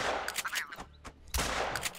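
A rifle fires while hunting in Finland on the Revontuli Coast, with two loud booming shots about a second apart, each trailing into a rumbling echo, no talk.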